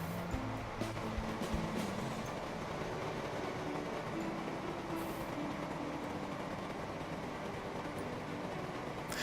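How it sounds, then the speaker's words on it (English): The Newcastle train in Transport Fever rumbles along steadily, a continuous low rolling drone with a faint rhythmic clatter near the start, heard alone without talk. "Ah, this is the Newcastle train."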